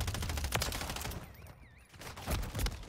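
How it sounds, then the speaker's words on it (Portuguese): Gunfire in Call of Duty Modern Warfare III: dense bursts of shots and impacts fill the clip, with a brief quieter gap midway and a faint warbling tone. "Vou levando tiro aqui."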